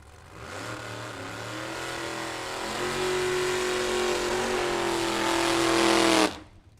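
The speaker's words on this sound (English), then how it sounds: "I have to elevate my voice to get over the sound of this car." A drag racing car's engine revs hard at the start line, a loud sustained roar that climbs in pitch and intensity for several seconds before cutting off abruptly.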